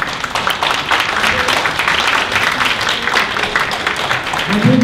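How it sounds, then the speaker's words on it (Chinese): Warm applause fills a hall at a Taiwanese American human rights association's annual conference, a steady wash of clapping from the audience with a faint murmur underneath. "咱即马就热烈掌声来请台南县"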